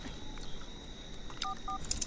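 Telephone keypad dialing in a home at night: a few short paired keypad tones beep near the end, faint and close, over quiet room noise.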